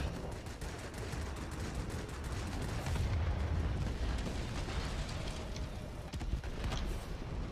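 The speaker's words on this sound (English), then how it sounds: "Let's see if I can drop this bomb here." A bomb explodes in World of Warplanes, dropped from a Focke-Wulf Fw 57 heavy fighter, as a muffled low boom swelling out of a constant droning rumble, with a few scattered bursts after it.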